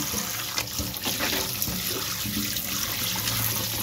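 Tap water runs steadily into a sink while raw pork is washed in a rural Filipino kitchen, a close, even splashing rush with small clatters of handling and no speech.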